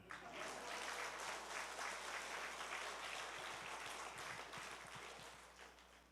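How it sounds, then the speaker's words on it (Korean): Congregation applauding in a church during a revival service, a broad steady wash of many hands that holds strong for several seconds before thinning toward the end. "수준 있는 교회는 박수 치더라고요"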